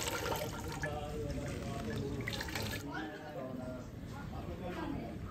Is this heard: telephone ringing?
no